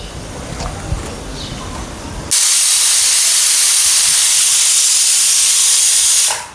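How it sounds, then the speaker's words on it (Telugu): Steam hisses loudly and steadily from an idiyappam steamer, starting suddenly after a quieter stretch and rushing on evenly for about four seconds before it fades. "చూసారా, లైట్గా వేపర్ వస్తుంది"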